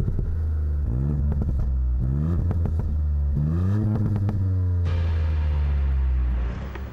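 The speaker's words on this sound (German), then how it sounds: "dass der Auspuff vom Fiesta ST ordentlich Klang hat" A Ford Fiesta ST's throaty exhaust revs up and down repeatedly, loud and close, with rising and falling pitch sweeps before settling into a steady rumble.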